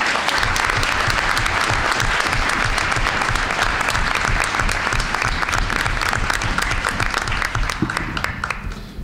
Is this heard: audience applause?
yes